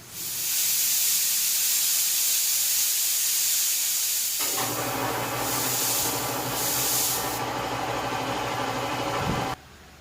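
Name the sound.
air compressor running, air hissing from Paint Zoom nozzle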